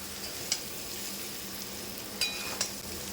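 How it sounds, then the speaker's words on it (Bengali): Mango pieces coated in spices for mango pickle fry softly in a pan, a faint, steady sizzle with a few sharp clicks of stirring. "মশলা আমগুলো ভাজা হয়ে গেছে"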